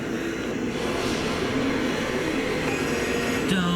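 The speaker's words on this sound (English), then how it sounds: "Now it's getting on in with the plane crashing." An airplane crashing in the Doctor Who episode "Spyfall, Part 1", a loud, sustained roaring rush that fills the whole moment, with a thin rising whine near the end.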